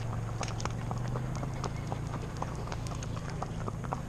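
Horse hooves clip-clop on a road at night in a steady, even rhythm, close and clear over a constant low hum, with no talking.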